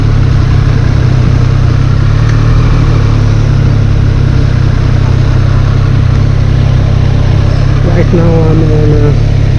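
A 2017 Triumph Street Triple 765 RS motorcycle engine runs steadily and loud under a rider's continuous talk while riding on a busy city street, with wind rumble and a brief rising whine near the end.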